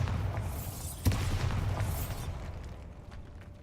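A Bombarda blasting spell goes off in Hogwarts Legacy, one sharp close boom followed by a rumbling, crackling decay that fades to quiet.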